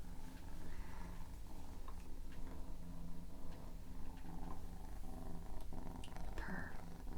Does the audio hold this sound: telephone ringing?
no